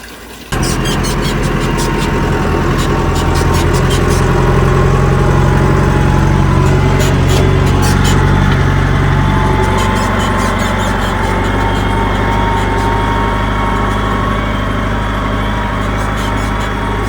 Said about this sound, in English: And now we fire up the fancy pacer pump.